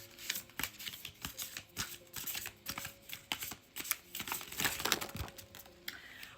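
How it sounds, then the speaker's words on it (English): Continuous crisp riffling and slapping of tarot cards being shuffled, with rapid irregular clicks and rustles throughout at close range. "we're just going to go ahead and do a flying card shuffle"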